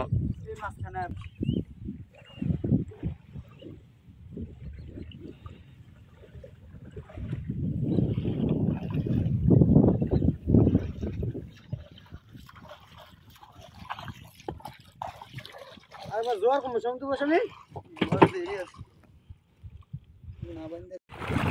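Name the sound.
wooden boat pushed through shallow Padma river water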